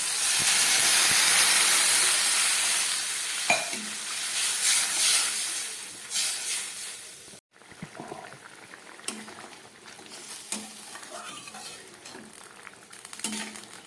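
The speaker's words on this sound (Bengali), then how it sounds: "মাছের ঝোলটা একদম ফুটে উঠেছে।" Fish curry broth with small carp (chara pona) coming to a boil in a pan, giving a steady bubbling hiss that is loud at first, then settles into softer gurgles and pops, with no talking.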